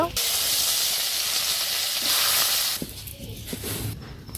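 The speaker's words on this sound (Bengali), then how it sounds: "এবার আমি কপিগুলো ভেজে নেব।" Cauliflower pieces frying in hot oil in a village kitchen give a steady, close sizzling hiss for nearly three seconds, which then thins to softer crackles and light clatter.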